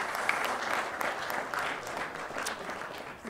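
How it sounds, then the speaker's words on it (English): An audience at a gathering of team captains breaks into a full wash of applause that stays dense and steady, heard from a distance and fairly quiet, tapering slightly at the end. "a big round of applause to the gentlemen who will take stage over the next"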